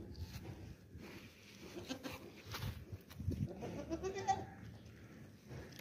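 Goats for sale on a Pakistani farm, including a pink-uddered milking doe, bleat and stir close by amid a steady hum of flies and low farmyard noise.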